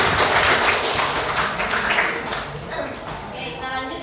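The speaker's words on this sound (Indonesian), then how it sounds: "tepuk tangan untuk kita semua" A group in a classroom bursts into applause, a loud, dense run of clapping that holds for a few seconds and gradually thins, with voices chattering through it.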